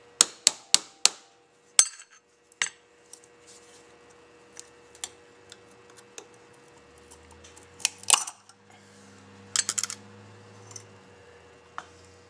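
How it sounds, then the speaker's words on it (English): A putty knife is tapped between two stuck parts of a 1937 Packard 12, giving a quick run of sharp metallic taps followed by sparser knocks and clinks, close and fairly quiet, with no talking. "Put a putty knife in between the two pieces, a few taps."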